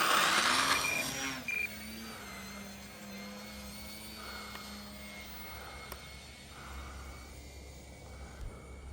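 An E-Flite Eratix 3D flat foam RC airplane flies overhead, its small electric motor giving a steady, moderately loud whine that rises and falls in pitch as the throttle changes, with no talking.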